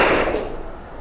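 A group of people claps once together on a spoken cue, a single sharp, fairly loud burst that rings briefly and fades into a quiet room tone.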